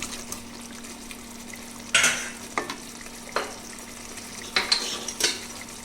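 Boiled potatoes go into a pan and fry while being stirred, giving a low background sizzle under a string of sharp scraping and clattering spatula strokes against the metal pan.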